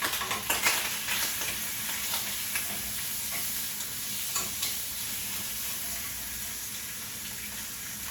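Meat sizzling in butter in a pan, a soft continuous frying hiss with occasional stirring clicks and scrapes, fairly quiet and close, with no talking.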